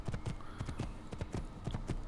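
Horse hooves clip-clop steadily in Assassin's Creed, a brisk repeated trotting rhythm close by and fairly loud, with a faint voice briefly under it.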